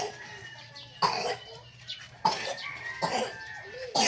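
Several short, sharp coughs come at irregular intervals, close to the listener, with quiet background noise between them.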